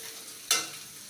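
Masala with garam masala cooking in a pan for aloo gobhi, a soft steady sizzle with one sharper stirring scrape partway through, close and fairly quiet.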